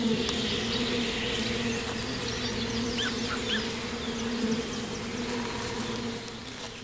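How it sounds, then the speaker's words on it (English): Wujan honeybees in a remote cold region, a dense steady buzzing swarm heard up close and loud throughout, with no talk over it. "The Wujan honeybees, found only in this region, can survive extreme cold, have a naturally high resistance to disease, and skillfully gather nectar from linden trees"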